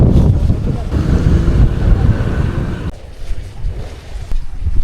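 Strong wind buffets the microphone on a kelong fishing platform at sea, a loud gusty roar that drops off briefly near the end before rising again, with no clear voices.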